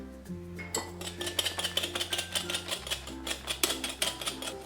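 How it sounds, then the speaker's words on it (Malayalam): Semolina cake (basbousa) batter with vegetable oil just added is beaten briskly in a bowl, a fast steady clatter of rhythmic strokes over a low continuous hum. "ഇനി ഇതിലേക്ക് എടുത്തു വെച്ചിരിക്കുന്ന വെജിറ്റബിൾ ഓയിൽ ഒഴിച്ച് ഒന്നും കൂടി ഇതൊന്ന് ബീറ്റ് ചെയ്ത് കൊടുക്കാം"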